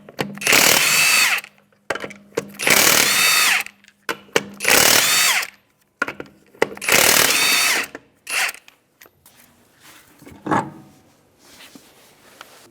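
An impact wrench with a 22mm socket loosens the lug nuts on the rear wheel of a 2011 Honda Odyssey in four loud, close bursts of rattling hammering, each a second or so long, followed by quieter clinks and handling.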